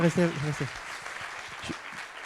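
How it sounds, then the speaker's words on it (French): Applause for invited witnesses at a Montpellier city energy event, heard as a moderate, scattered patter of clapping behind a brief burst of speech at the start. "on peut encore applaudir nos témoins"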